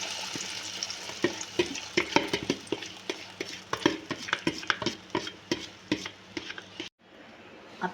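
Eggs for an omelette are whisked and stirred in a bowl, rapid close clinks and scrapes of utensil against the dish in quick irregular bursts, ending in a brief drop to near silence.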